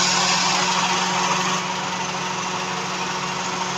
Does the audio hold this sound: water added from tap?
no